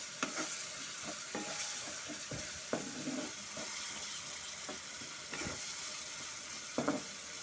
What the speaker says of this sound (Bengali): সমস্ত মশলার সাথে আলুটাকে ভালো মতো করে কষে নেব।